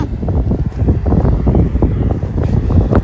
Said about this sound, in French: Il y a un petit vent qui est assez frais.